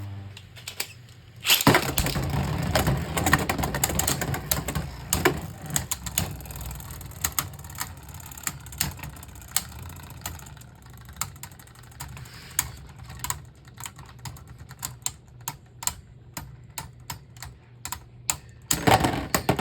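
Beyblade Burst spinning tops Slingshock and Treptune launched into a stadium with a loud rip, followed by a long, continuous rattle of rapid hard clicks as they clash, and a final burst of impacts near the end.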